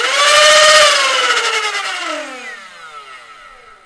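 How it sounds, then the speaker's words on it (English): A loud motor revs up to a high whine, then its pitch drops and fades as it winds down, close and harsh, with no talking. "Prepare your audio inputs for loud revving."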